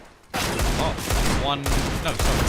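Rapid automatic gunfire in a professional Counter-Strike match on the Nuke map, dense overlapping bursts of rifle shots and a plinking ricochet, loud and continuous after a brief quiet start.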